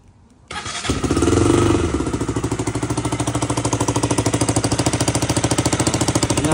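KTM Duke 200 motorcycle with a leaking exhaust gasket, starting up and idling close by, a loud, rapid, uneven chuffing putter that runs steadily without speech.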